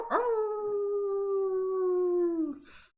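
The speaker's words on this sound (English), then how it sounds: "Let's hear those wolf howls." A single long wolf howl, loud and close, holds a steady pitch for over two seconds before dropping away at the end, with no other sounds around it.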